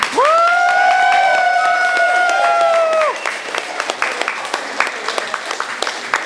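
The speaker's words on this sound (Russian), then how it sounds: "награждается призом и вашими аплодисментами Amazon" Scattered applause from the audience at a fan convention award ceremony for a Sonic Adventure 2 competition. A sustained tonal jingle plays first, then loose, uneven claps follow at moderate volume.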